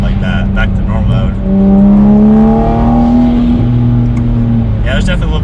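A Toyota Supra engine with an aftermarket turbo inlet pipe revs and whooshes up and down, loud and near, its intake roar swelling mid-way as a voice talks over it.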